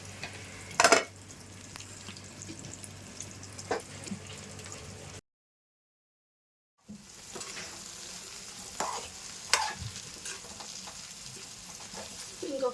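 Chicken pakodi frying in a pan, with a steady oily sizzle and occasional scrapes and clinks as it is stirred; the sizzle breaks off briefly and then resumes at the same level.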